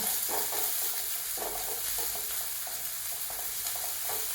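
Sliced onion and green chillies sizzle steadily in hot oil, a continuous close frying hiss with soft intermittent stirring scrapes, no voices.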